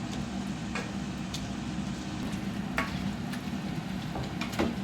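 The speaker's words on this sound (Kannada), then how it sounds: "ಇವಾಗ ಇದನ್ನೆಲ್ಲ ನೀಟಾಗಿ ಸ್ಮ್ಯಾಶ್ ಮಾಡ್ಕೊಳ್ಳೋಣ" Cooked tomatoes for a spicy tomato chutney are mashed in a pan, quiet soft squishing and stirring with occasional light clicks of the utensil over a low continuous background.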